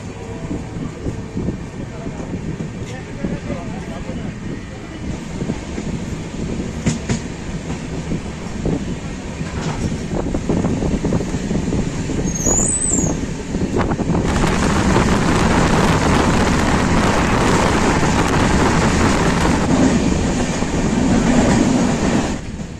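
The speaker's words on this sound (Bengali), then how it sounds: "তো ট্রেন আমাদের ছেড়ে দিয়েছে।" Jammu Tawi Express 13151 picks up speed after a one-minute station stop, its rumble and clickety-clack of wheels growing louder and denser midway, with wind buffeting the microphone and a faint high squeal.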